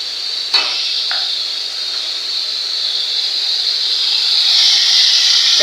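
Blended shrimp paste sizzles in a hot pan with a steady, close, loud hiss that grows a little stronger toward the end, broken by a few faint clinks of a utensil.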